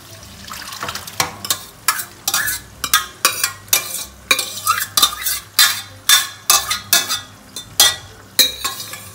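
Dal stirred into hot ghee and oil, loud close sizzling with a regular rhythm of sharp stirring strokes and utensil scrapes against the pan, about a dozen bursts, no talking.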